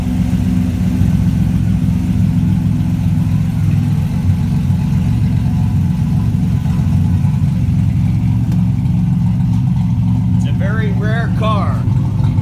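A 1987 Buick Regal Turbo T Limited with a full roller engine runs steadily close by, giving a loud continuous low drone and rumble, with a brief higher sound near the end.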